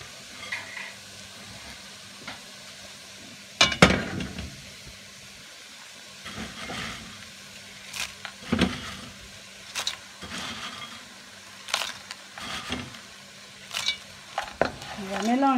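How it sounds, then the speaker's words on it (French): A spoon stirs a sticky date cake mixture with petit beurre biscuits in a bowl, producing intermittent scraping and clacking strokes at close range, with a steady faint hum beneath. "On va mélanger le tout."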